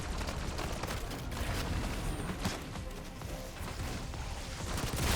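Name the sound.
weapon gunfire in video game Black Ops 6 Zombies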